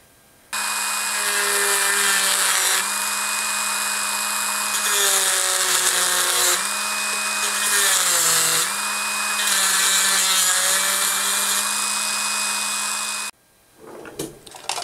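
A Dremel rotary tool with a cutting disc slices into a wooden lipless crankbait body, a loud, close, continuous high whine that dips and wavers in pitch as the disc bites, then stops abruptly near the end.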